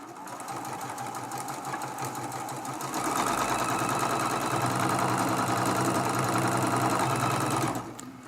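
A sewing machine stitches quilt block pieces in a continuous chain, a fast, even mechanical whir that speeds up partway through, then stops abruptly, close and steady.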